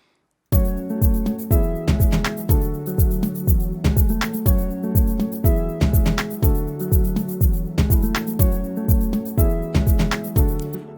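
Synth chords from the Morphine synth in FL Studio drive an Afro house groove, pulsing in a steady repeated pattern over punchy low kicks, loud and continuous without any voices.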